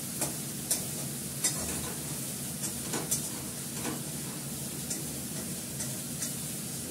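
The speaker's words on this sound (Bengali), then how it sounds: "চিনি চিনি করে করে ফুটছে আর এই তেল বেরিয়ে আসছে।" Oil bubbling and sizzling steadily in a hot wok with green chilies after eggplant has been fried in it, with occasional sharp clicks of a utensil against the pan.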